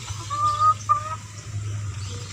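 Hens cluck softly in a backyard coop, a couple of short calls over a low steady hum of the surroundings.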